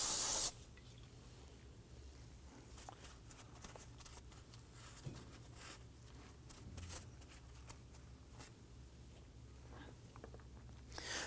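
Brake cleaner sprays onto the rear brake parts of a 2015–2024 Nissan Murano: a loud hissing burst at the start, then quiet dripping and faint ticks, with a brief hiss returning at the end.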